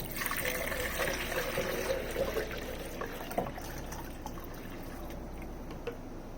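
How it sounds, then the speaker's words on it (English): Liquid is poured in a steady splashing stream into a makeshift blender while feeding baby brine shrimp, continuous and close, with no voices. "let me haphazardly pour this in this blender"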